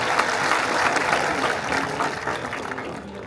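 A dense, hissing wash of crowd clapping welcomes a guest at a political public meeting in Chikhda. It stays loud and steady, then thins slightly toward the end.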